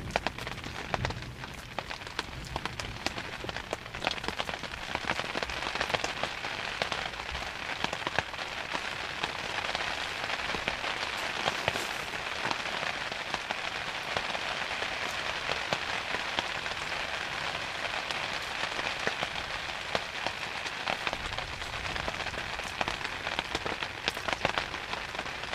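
Steady rain patters on hard surfaces in a forest camp during a storm, a dense, even hiss of drops with scattered louder splats, continuing throughout without voices.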